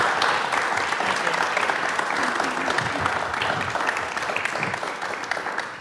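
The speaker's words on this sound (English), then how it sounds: "a big round of applause for our panel" An audience applauds a panel of artists at a discussion event, with steady, dense clapping that holds throughout at a fairly even level, a few faint voices mixed in.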